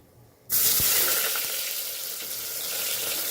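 Onions dropped into hot oil in a pan burst into a loud, steady sizzle that carries on alone, close by, with no talk over it.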